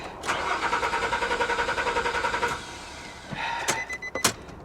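A 1982 Chevy Camaro with a Crossfire V8, out of fuel, cranking without catching: a steady rhythmic whirr of the starter for about two seconds, then a few short clunks and clicks, with no talking.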